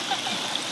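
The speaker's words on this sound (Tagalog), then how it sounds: "Ang sarap ng tunog ng ano, tubig." Water runs steadily over rocks in a river, a continuous broadband rush close to the listener with small splashy flickers and no voices.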